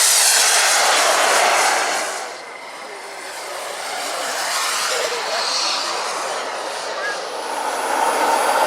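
Just after takeoff at the Weston Park RC airshow, a radio-controlled model aircraft engine screams loudly, fades briefly as the plane moves away, then swells again.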